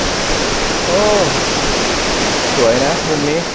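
The Phlio waterfall in Chanthaburi, Thailand, heard from a viewpoint, makes a steady, loud hiss of rushing water that never lets up, with a voice speaking briefly over it.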